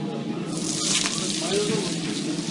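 A loud, steady sizzle of food frying on a hot grill in a döner restaurant, with a voice talking faintly underneath.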